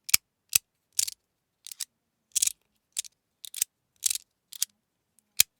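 A fidget slider with a stainless steel slide layer and PLA shell gives about a dozen crisp, sharp clicks, close and in an irregular rhythm, with silence between them.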